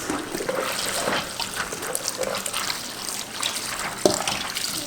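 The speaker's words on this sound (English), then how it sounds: "I'm just gonna get all these lentils out of here and then give it a good rinse" Running water rinsing lentils in a sink, a steady moderate splash and trickle with small clatters, no talking.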